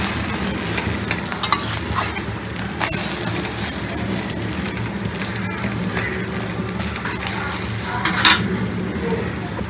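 Egg bread kothu flipped and fried in a pan, giving a loud steady sizzle with repeated scraping and clattering of the spatula against the metal surface.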